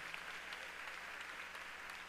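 Church congregation applauding at a conference, a faint, even wash of many hands clapping heard from a distance with no break.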